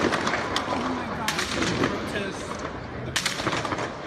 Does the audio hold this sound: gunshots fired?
yes